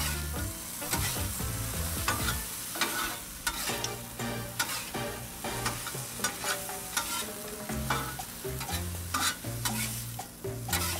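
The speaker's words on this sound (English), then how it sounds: "Once you add the garlic butter, you start stirring it around." Chicken fried rice with garlic butter being stirred on a Blackstone 22-inch griddle gives a steady, loud sizzle with frequent scraping and clacking of spatulas against the hot flat top, continuing without pause throughout.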